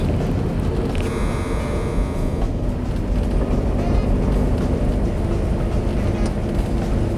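A restored 1962 Jaguar Mark II sedan driving slowly in a circle in second gear, a steady low engine drone and road rumble from inside the car.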